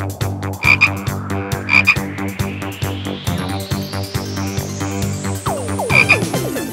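Frogs in a condo-style frog farm croak loudly and close by in dense, rhythmic pulses that overlap one another, with a thin, rising tone running underneath.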